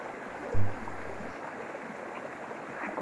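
A natural stream flows steadily through a backyard campsite in a rural setting, its broadband water rush constant and moderately near, with a brief low thud early on and no talk.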